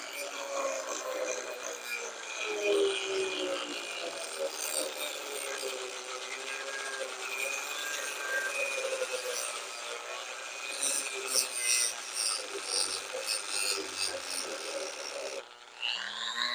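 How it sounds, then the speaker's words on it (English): A Dremel rotary tool cuts a new notch, giving a continuous high grinding whine with scraping texture that runs steadily and evenly for the whole stretch, then dips briefly near the end. "take your Dremel tool or whatever you're going to work with and cut a new notch right there"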